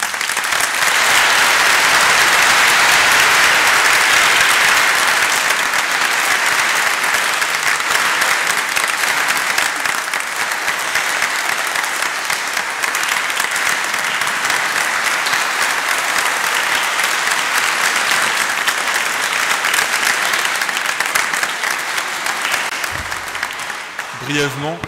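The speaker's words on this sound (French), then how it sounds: "et on peut l'applaudir." Church congregation applauding a departing priest at a farewell Mass in a cathedral: sustained, dense clapping that fills the space loudly and evenly for about twenty-five seconds, fading slightly near the end.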